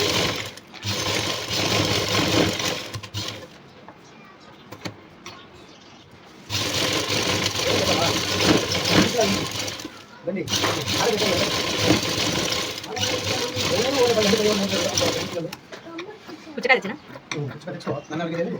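A sewing machine stitches piping onto a work jacket in loud, sustained runs of several seconds each, separated by brief pauses, with someone talking over parts of it.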